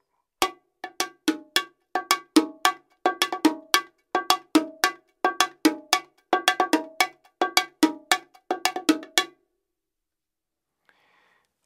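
Bongos struck with a Root 505 rod stick, producing sharp, bright, clacking hits in a quick repeated rhythmic pattern for about nine seconds before stopping; close and loud with no talking.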